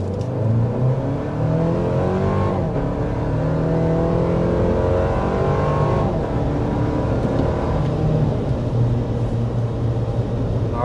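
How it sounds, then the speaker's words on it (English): Toyota Land Cruiser iForce Max hybrid engine under hard acceleration to 60 mph, a loud steady drone rising through gear shifts with a couple of brief breaks, heard from inside the cabin with no talking. "we want to go ahead and start with a hard acceleration"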